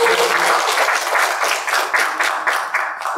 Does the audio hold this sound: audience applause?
yes